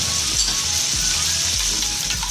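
Tawa chicken, steam-cooked and then sizzling on a griddle Lahore street-food style, gives a steady close hiss of frying with soft low thumps and scrapes from stirring, no voices.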